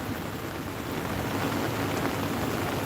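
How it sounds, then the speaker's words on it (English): Heavy rain falls steadily in Miami, South Florida, a dense, even hiss of drops hitting surfaces that stays loud throughout, with no talking and no distinct thunder. "So we've had a rain event for the last 48 hours."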